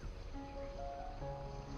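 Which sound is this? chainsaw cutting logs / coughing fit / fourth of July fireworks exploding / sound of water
sound of water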